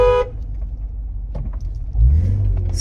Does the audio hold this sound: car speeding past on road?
yes